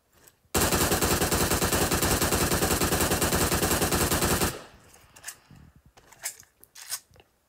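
Sustained automatic gunfire from a PUBG-style shooter game, a loud rapid burst of evenly spaced shots lasting about four seconds, followed by quieter scattered clicks and faint game sounds.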